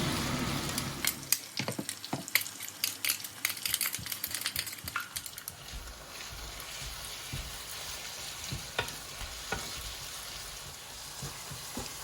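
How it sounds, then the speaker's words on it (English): Frying in a pan while cooking Kerala fried chicken biriyani: a steady sizzle carries on throughout, with clinks and stirring taps scattered over it in the first half, then a lighter, continuous crackle. "You have to fry it till it becomes golden brown."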